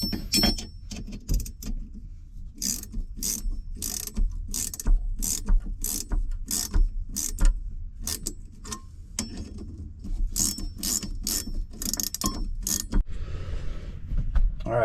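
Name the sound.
ratchet turning a harmonic balancer puller kit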